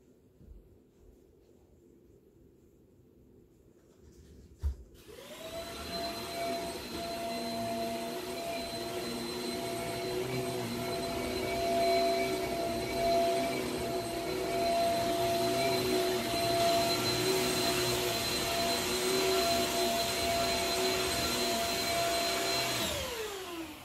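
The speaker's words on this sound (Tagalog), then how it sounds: "Tapos ako nagbabakyom ng third floor" A vacuum cleaner being used on a third-floor floor switches on after a short quiet stretch and a thump, then runs with a loud, steady whine and roar until the end.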